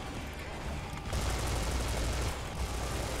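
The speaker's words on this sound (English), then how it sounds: "And I see just endlessly pouring bullets into it." Sustained rapid gunfire in the shooter game Serious Sam 4, a dense unbroken burst of shots that grows louder partway through, with no talk over it.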